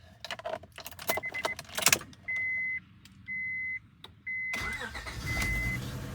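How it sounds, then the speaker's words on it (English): A car with a high-flow catalytic converter cranks with key-ring jingle, then starts and idles close by in a few uneven bursts, running roughly with a misfire. "As you see, it has a misfire."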